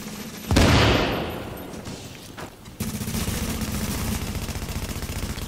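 Gunfire in a squad-based video game shooter, a heavy burst of shots followed by sustained rapid automatic fire that continues loud and close, with no talking.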